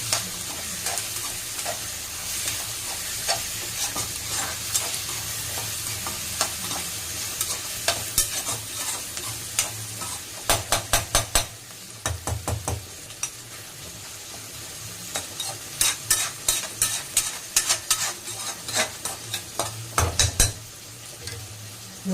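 Steady sizzle of fish-frying oil runs throughout while a utensil scrapes and clatters against the pan in bursts of quick stirring strokes, with no voices.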